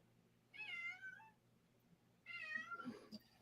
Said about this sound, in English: And if you hear a cat there in the background,